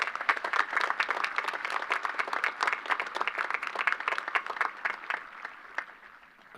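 Audience applause at a high school commencement ceremony, the Plymouth Whitemarsh Class of 2017, dense and sustained from a large crowd, tapering slightly toward the end.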